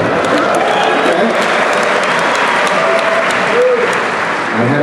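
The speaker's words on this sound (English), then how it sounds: "I had a feeling you were going to applaud that." A large audience at a live lecture-tour event in Salt Lake applauds, a dense, loud, steady wash of clapping that fills the hall for several seconds.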